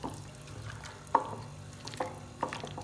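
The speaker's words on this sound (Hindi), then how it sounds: "इन सब स्पाइसेस को चिकन के अंदर हम अच्छी तरह से कर देंगे मिक्स" Ginger garlic paste and spices are stirred into raw chicken for chicken tikka karahi, giving soft wet squelches and a few sharper clinks of a spoon against the bowl, close and quiet, with no speech.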